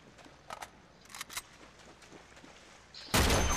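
A shotgun blast in the video game Uncharted 2 hits hard and loud right at the end, after a stretch of softer scattered game noises and clicks.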